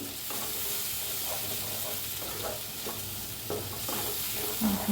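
Masala for an okra (bhindi) dish roasting in oil in a pan over medium heat, with steady sizzling and repeated scraping stirs throughout, close and moderately loud, with no talking.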